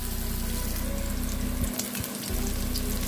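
Food fries loudly in a thin wok while being stirred constantly, a dense close sizzle with scraping strokes and a brief dip in the low hum partway through.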